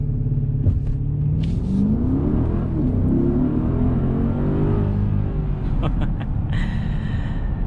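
A 2021 Mercedes GLS 580 SUV launches hard from a brake boost, its engine rising in a long, loud, sweeping rev through the gears, with brief clicks and a fading whine near the end.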